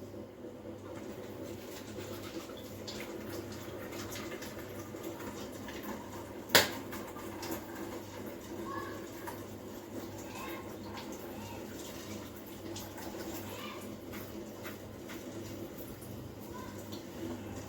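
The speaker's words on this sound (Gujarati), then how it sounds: "આદુ છે ને જરાક ધોઈ લઉં હું." A piece of ginger is rinsed under a running kitchen tap while tea is prepared: a faint, steady wash of flowing water continues throughout, broken once by a sharp click near the middle.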